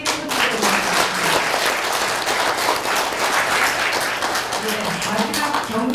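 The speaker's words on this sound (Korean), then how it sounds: "이 부분에서 박수를 크게 쳐주세요." Loud, dense audience applause at a political forum with a candidate, many hands clapping steadily throughout with a faint murmur of the crowd underneath.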